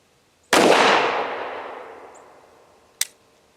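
A Tisas PX 5.7 pistol fires at an outdoor gun range: one loud, close shot with a long, fading echo, then a second short, sharp report a few seconds later.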